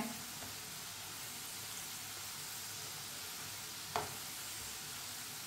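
Potato fries frying in oil over a low flame give off a steady, even sizzle and hiss, with one brief knock partway through and no talking.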